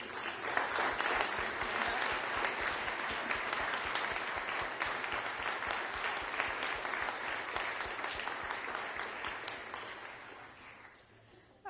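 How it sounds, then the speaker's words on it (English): A lecture audience gives a round of applause for standing graduate students, a dense, even roar of many hands clapping that holds steady for about ten seconds before tapering off at the end. "let the audience give you a round of applause"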